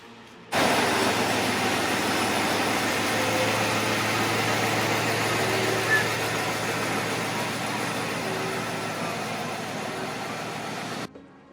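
A GMC Sierra AT4 pickup with wheel spacers on stock OEM wheels is driven outside, its engine giving a steady, fairly loud, close rumble that holds evenly throughout before cutting off abruptly.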